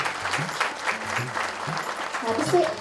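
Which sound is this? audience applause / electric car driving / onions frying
audience applause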